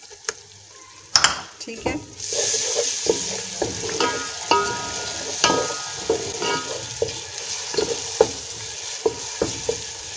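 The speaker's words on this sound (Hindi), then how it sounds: "अब इसमें मैं डालूंगी अदरक लहसुन का पेस्ट" Onions sizzle in a pan with ginger garlic paste while a spoon stirs and scrapes, giving a steady frying hiss punctuated by frequent close clacks against the pan, with a brief spoken word.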